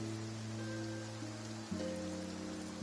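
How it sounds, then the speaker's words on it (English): Rain falling in Fontaine in a video game, a steady even hiss of drops with a low tonal hum of background music underneath, no voices. "Looks like rain."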